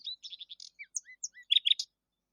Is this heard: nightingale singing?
yes